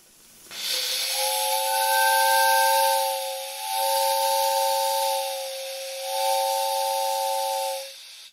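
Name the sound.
three-chime 40mm steam whistle blown with steam at 7.5 bar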